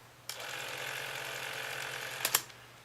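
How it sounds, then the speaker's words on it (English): Whirring, buzzing run of a Revere 88 8mm cine camera's shutter and film-pull mechanism, close and steady for about two seconds, then a couple of sharp clicks as it stops. "once you push the shutter release,"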